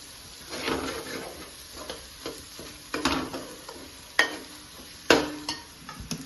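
Marinated chicken frying in a hot pan for a chicken fry with gravy, with a steady sizzle broken by several sharp stirring scrapes and clatters close by, no voices.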